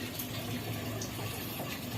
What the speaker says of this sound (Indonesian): jadi airnya mengalir terus